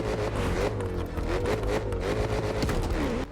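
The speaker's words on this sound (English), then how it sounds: "a car that I didn't actually know had such a nice engine sound in this game" Jaguar F-Type engine from a racing video game, a loud, steady growl with shifting revs held throughout, close and continuous with no talk over it.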